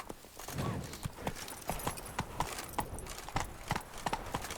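Hoofbeats of the horse Roach galloping in The Witcher 3: Wild Hunt, a fast, regular clip-clop rhythm of hooves close by, steady and loud for the whole stretch, with faint game ambience behind.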